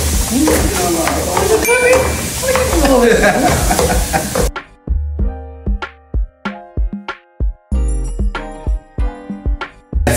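Garlic and ginger aromatics sizzle in a hot pan for Sichuan dan dan noodles, a loud steady frying hiss for the first half, then a run of sharp stirring clatters and spatula knocks against the pan.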